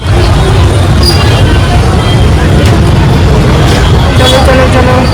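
Loud, steady roar of a road traffic jam with cars and buses, engines rumbling close by with occasional higher whines and hisses, constant and unbroken.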